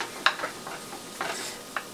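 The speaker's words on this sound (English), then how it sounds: "So frying up the sausages and the mushroom." Soft sizzling of sausages and mushrooms frying in a pan, with a few scraping stirs and light clinks, fairly quiet and close, no talking.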